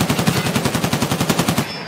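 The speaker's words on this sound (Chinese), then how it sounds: "那是阿兵在开枪。" Automatic gunfire in a video game rattles in one rapid, loud, evenly spaced burst of roughly twenty shots, close and alone.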